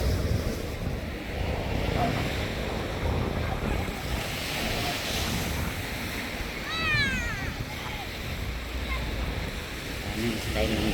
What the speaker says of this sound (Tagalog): Maalon ang dagat, maalon.